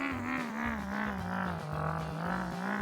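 A vehicle engine in the racing video game Eggcelerate hums steadily, its pitch rising and falling in smooth waves as it revs, loud and continuous with no talk over it.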